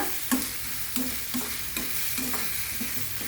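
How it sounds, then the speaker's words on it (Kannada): Chopped tomato sizzles steadily in a pan for a Palak Paneer base, with a spoon scraping and stirring at regular intervals of about half a second, close and moderately loud, no voices. "ಇದು ಒಂದು ಎರಡು ನಿಮಿಷ ಫ್ರೈ ಆಗಬೇಕು ಟೊಮೆಟೊ"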